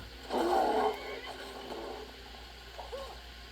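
A horse whinnies in the Skyrim video game, a loud near neigh near the start that fades into quieter game ambience, followed by a brief faint snort or nicker toward the end.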